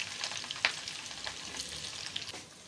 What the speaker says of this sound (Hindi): इसमें ये अदरक इसमें ऐड करेंगे, फ्राई करेंगे इसको और साथ में ग्रीन चिली